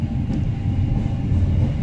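A train rumbles at a station platform on the Jakarta–Tegal line, a steady low rolling roar that stays constant and fairly loud throughout, with no voices.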